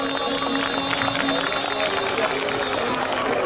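Audience applause for municipal workers at a public gathering, steady dense clapping from a large crowd sustained evenly throughout, with some chatter mixed in.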